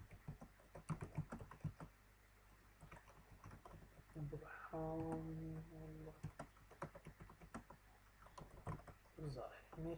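Rapid clicking keystrokes on a computer keyboard while writing a first C language program, close and fairly quiet, with someone speaking over the typing partway through.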